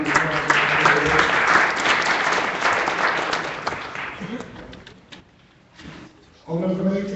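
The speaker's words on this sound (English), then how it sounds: "So let's give them a round of applause." A room of attendees at a city board of aldermen meeting gives a round of applause for introduced guests, steady clapping under some talk for about five seconds, then dying away before a voice resumes.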